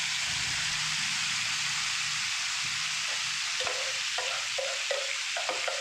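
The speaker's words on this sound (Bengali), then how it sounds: "মশলাটা ফ্রাই করে ম্যারিনেট করা চিংড়ি মাছটা এর মধ্যে দিয়ে দিলাম" Marinated prawns frying in spice masala give a dense, continuous sizzle, joined in the second half by a run of quick stirring clicks and scrapes, with no voices.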